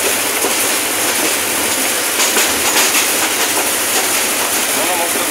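Train running on a railway line after leaving Joydebpur junction for Mymensingh, heard from on board as a loud, steady rushing rumble with faint rhythmic clatter throughout.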